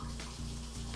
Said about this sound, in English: The water is on and there is no leaks.